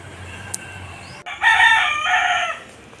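A rooster crows once at moderate distance in a rural farmyard, a single drawn-out call over quiet background after a brief faint cluck.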